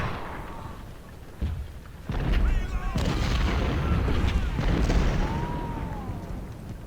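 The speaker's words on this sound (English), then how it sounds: "these skirmishers are getting hit hard with our artillery fire" Booming artillery fire from a Civil War battle at Chancellorsville in Ultimate General: Civil War, continuous loud cannon blasts and rumbling gunfire with battle noise building after a brief lull.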